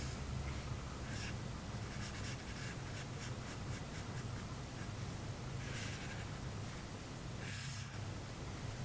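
Pencil drawing and shading on paper for a cartoon reindeer, a steady close scratchy rubbing with short bursts of strokes over soft background hiss, no voices.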